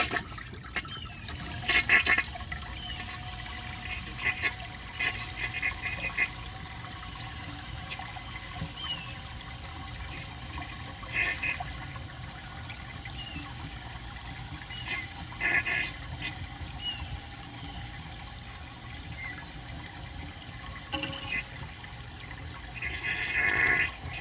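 A 2012 Project Source high-efficiency toilet flushes with the handle held down, water swirling and bubbling steadily, punctuated by occasional brief gurgles and splashes, fairly quiet and close.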